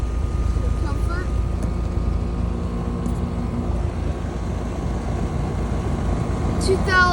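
A 2011 Sure Comfort two-ton R410A central air conditioner with an open-style compressor runs outside a barber shop, giving a steady, moderately loud mechanical hum with a low tonal drone and no pauses.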